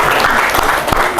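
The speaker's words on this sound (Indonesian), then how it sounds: "Beri tepuk tangan juga ke Nabila." Applause from a classroom audience during a math lesson, a dense steady clatter of clapping hands lasting about a second, loud and close with no talk over it.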